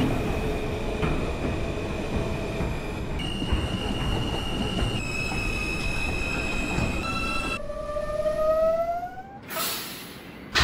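An R160 subway train in the OpenBVE train simulator rumbles along with sustained motor whine tones, then wheels squeal in rising pitch as it slows, ending with a brief loud burst of noise.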